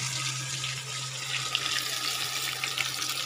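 Water is poured into a wok of frying soybean for a Bengali soybean kosha curry, producing a steady splashing, running-water hiss over a faint background hum, with no talk.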